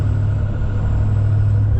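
A truck pulls up nearby with a low, steady engine rumble that holds throughout, close and fairly loud.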